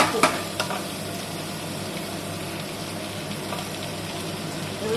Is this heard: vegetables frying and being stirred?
yes